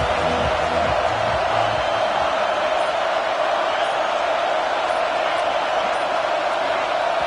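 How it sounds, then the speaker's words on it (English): A packed stadium crowd at a college football video game roars continuously, a dense loud wall of cheering and yelling that holds steady throughout without letup. "with this place rocking, the crowd forces a false start"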